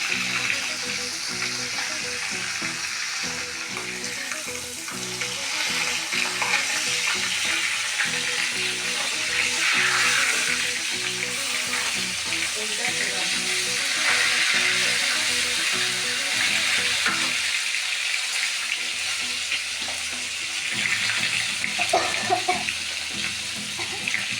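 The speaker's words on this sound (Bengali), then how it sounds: "এইভাবে সবগুলো ভেজে নেব।" Koi fish frying in oil, cooked three pieces at a time, giving a steady, close sizzle with bubbling crackle that runs unbroken for the whole stretch, with no one talking.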